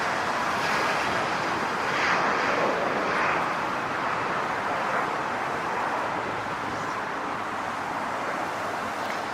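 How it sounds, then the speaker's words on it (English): A United Boeing 737 MAX 8 lands at LAX, arriving from Vancouver. Its broad engine roar holds steady at moderate distance for about nine seconds and eases slightly toward the end, with traffic hum underneath. "And we have United Flight 387. It's a 737 MAX 8 coming in from Canada, Vancouver, YVR."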